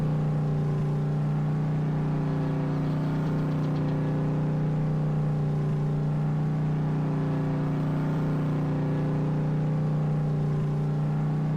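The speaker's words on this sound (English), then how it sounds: "the truck's so loud it's waking your animals up" A loud truck engine runs steadily nearby on a farm during field work, a constant deep droning hum with no change in pitch or rhythm throughout.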